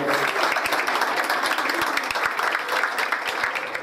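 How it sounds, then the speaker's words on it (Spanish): Sustained applause from a crowd at the inauguration of a new youth center, many hands clapping steadily and fairly loud for the full few seconds. "un fuerte aplauso"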